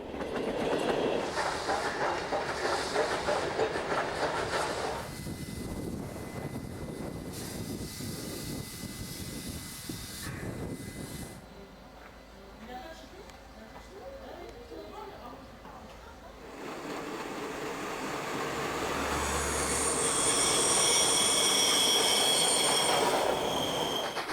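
French steam locomotive 141 R420 hauling a train on the Gorges de l'Allier line, a loud rolling rumble of wheels and carriages with clickety-clack and squealing, fading then swelling again.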